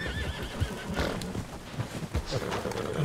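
A horse in the video game Red Dead Redemption 2 whinnies, and its hooves clop steadily underneath at moderate loudness, with no voices over it.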